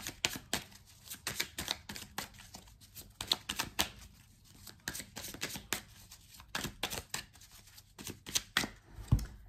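Oracle of the Radiant Sun cards are shuffled and handled close by, with quick, irregular riffles, flicks and soft slaps in bursts over about ten seconds, faint overall, with no talking.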